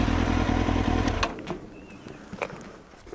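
A motorcycle engine runs loud and close with a steady droning roar for about a second, then drops away, leaving quieter clatter and faint rumbling behind.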